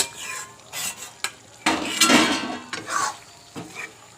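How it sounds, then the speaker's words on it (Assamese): Stirring chicken with potatoes and ginger-garlic paste in a cooking pot: a run of scraping, clattering utensil strokes against metal, with a soft sizzle underneath, close and moderately loud. "আৰু দি লৈ আকৌ এবাৰ ভালকৈ লৰাই দিম।"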